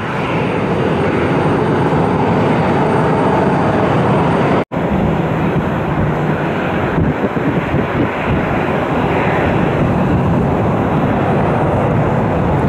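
Airliner arriving from Newark taxiing on the ramp at Cleveland Hopkins Airport, a loud, continuous jet engine roar with a broad rushing tone and a brief dropout midway, close and steady throughout.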